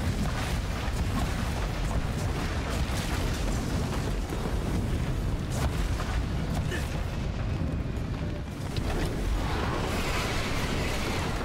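Loud, continuous booming and crackling of firecrackers in a video game fill the whole stretch, with sharper pops scattered through a dense roar of explosions.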